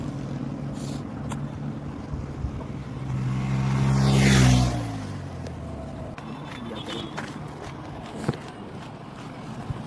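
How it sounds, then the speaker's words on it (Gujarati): Motorcycles carrying devotees along a road near Talod during a pilgrimage, one swelling loudly as it rushes past close by midway, with steady traffic rumble before and after. "ભક્તો જઈ જ રહ્યા છે, બાઈકો લઈને જઈ રહ્યા છે."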